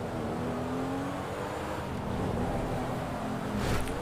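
Drifting sports car engine in GTA V, a steady loud droning roar with a sustained tonal whine that holds throughout and rises slightly near the end, alone without talk.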